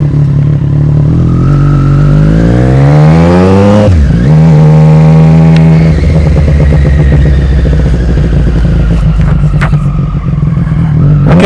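A Triumph Street Triple motorcycle engine revs loudly and steadily, pitch climbing and dipping through gear changes as it rides off on a warm, sunny day, close and continuous with no talking.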